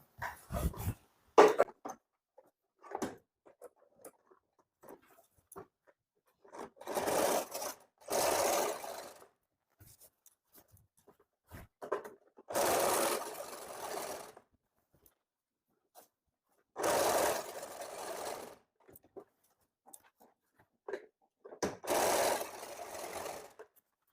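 A sewing machine stitches along a blazer seam in several separate bursts of rapid mechanical whirring, each a second or two long, broken by quiet gaps with small handling clicks.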